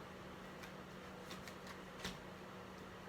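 A few soft, scattered tarot card flicks and riffles, quiet and close, with long stretches of near silence between them.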